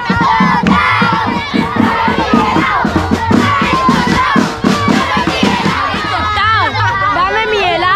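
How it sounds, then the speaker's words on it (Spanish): Crowd of children shouting at a street festival, many loud overlapping cries and calls close by, a dense chaotic din of young voices with chatter throughout. "¿qué manera de gritar"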